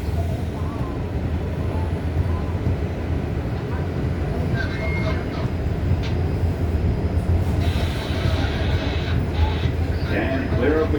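Steady low rumble of an R188 car on the NYC subway 7 line, a skip-stop train heading toward Flushing–Main Street, with continuous wheel and track roar and some brighter squeals and rattles later in the ride.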